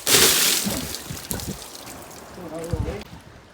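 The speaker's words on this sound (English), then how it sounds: "A shower with a view." Water splashes and runs in a shower aboard a sailing yacht, starting with a loud burst of spray and then trickling and sloshing more softly, with voices talking over it.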